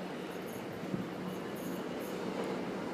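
A Gatwick Express train, a Class 442, passes through Clapham Junction station as a steady, broad rolling rumble with faint wheel and rail noise, moderately distant and continuous, with no voices.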